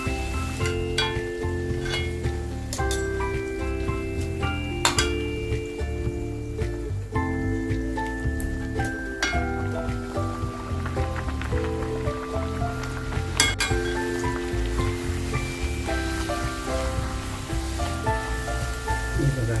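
Pumpkin gharge fry in hot oil as oil is splashed over them, a dense crackling sizzle running continuously with scattered clinks of a utensil against the pan.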